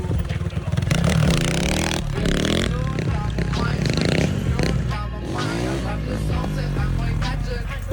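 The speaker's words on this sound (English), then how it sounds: "At first I tried to lift the bike into first gear" A motorcycle engine revs loudly and continuously during stunt practice, with rising and falling pitch sweeps and a mechanical clatter, close and dominant throughout, with a voice partly under it.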